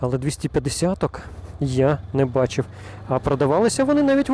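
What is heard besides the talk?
No everyday noise stands out behind the speech.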